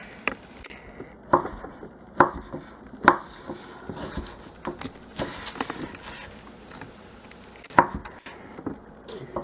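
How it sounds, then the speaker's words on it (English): A knife cuts tomatoes on a cutting board with irregular sharp taps and knocks, some louder than others, spread out with pauses between them. "So now just line them up again and then just cut them this way."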